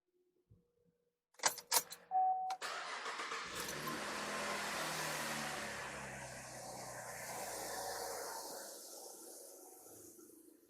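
Cadillac CTS with its alternator connector unplugged: keys jingle and the starter clicks briefly, then the engine catches and settles into a steady idle, fairly close and moderate in level.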